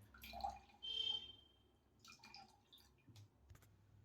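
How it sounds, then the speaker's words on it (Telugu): Ash gourd juice drips and trickles through a mesh strainer as the pulp is pressed, a few faint, sparse drips and small wet sounds close by. "ఇలాంటి జాలి దాంతో మనం ఇట్లా ప్రెస్ చేసుకోవాలి జ్యూస్ వెళ్తూ ఉంటుంది"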